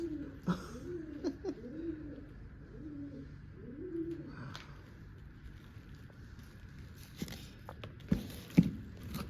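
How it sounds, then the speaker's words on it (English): Pigeons coo in soft, repeated rolling calls nearby inside a London thrift shop, with faint clatter and distant background noise in a quiet space. "You hear the pigeons?"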